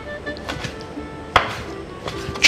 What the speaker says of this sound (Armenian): Հավի միսը կտրատում ենք մոտավորապես 1 սանտիմետր